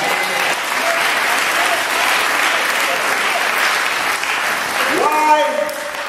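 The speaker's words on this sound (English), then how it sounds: "Somebody clap your hands for me." A church congregation at a Methodist service claps hands in a loud, sustained burst that continues throughout, while a voice rises over it near the end.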